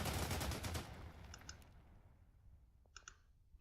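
Panzer III tank gunfire in the Order of Battle strategy game: a loud burst of rapid crackling shots at the start that fades out, then a few sharp isolated clicks, with no talking.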